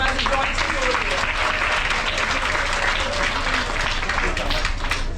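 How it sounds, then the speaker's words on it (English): A crowd claps for a volunteer joining the host on a cruise ship stage show aboard the Carnival Vista, dense, sustained applause filling the room at a constant loud level from start to finish. "A big round of applause for him as he joins us over here."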